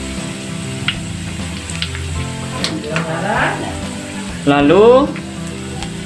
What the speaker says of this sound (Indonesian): Jadi ditumis sampai menghitam seperti ini bawangnya proses.